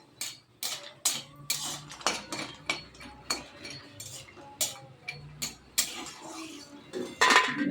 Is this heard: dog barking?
no